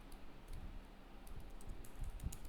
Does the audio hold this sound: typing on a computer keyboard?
yes